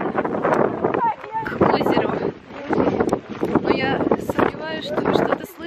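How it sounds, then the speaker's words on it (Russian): Strong wind blasts into the microphone outdoors in the Altai mountains, a rough, buffeting roar under continuous close talking. "здесь лютый ветер."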